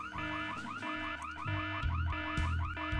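A car-style alarm blares in the remastered adventure game Full Throttle, a loud repeating warbling siren cycling rapidly and steadily alongside low game music, with no talking.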